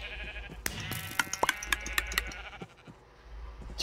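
Sheep bleating in a video game, several short bleats in quick succession among sharp clicks and impacts, fairly close and with no talking.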